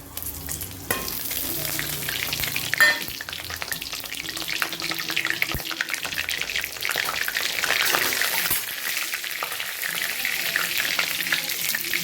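Bay leaf, cumin, cinnamon and cloves frying in hot mustard oil for chicken curry, a steady crackling sizzle with a few sharp pops and stirring noises, close and continuous throughout.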